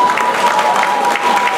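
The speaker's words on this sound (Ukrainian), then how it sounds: "Аплодисменти." A pub audience at a charity auction in Rivne applauds loudly, a dense, steady wash of clapping with some crowd noise, close and sustained throughout the short burst.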